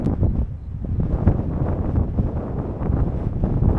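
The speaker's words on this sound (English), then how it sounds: "it got super windy up here" Strong, steady wind buffets the microphone on a high stretch of the Trans-Catalina Trail on Catalina Island, a continuous rough roar with brief gusty bursts throughout and no one talking.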